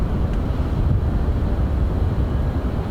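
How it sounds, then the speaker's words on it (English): Wind blowing at East London airport in Microsoft Flight Simulator 2024 after shutting down a SWS Kodiak 100, a steady low rumbling rush that holds level throughout with no voices. "Actually sounds a little bit windy here."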